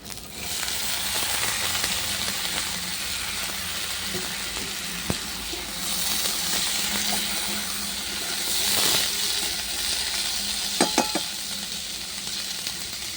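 Chickpeas sizzle in a pan with fried potato, onion and chilli for aloo chhola bhuna, a steady frying hiss with scraping stirs and a few sharp clinks of the spoon against the pan.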